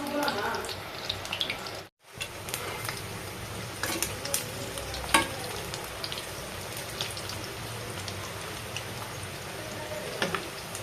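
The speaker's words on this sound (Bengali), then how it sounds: "চলো এইভাবে একটা একটা করে দিয়ে নিই তেলে ভালো করে।" Vegetable fritters (bora) sizzle steadily in hot oil during a home vegetarian Sunday cooking session, a continuous crackling hiss with small pops, broken by a brief gap near the start.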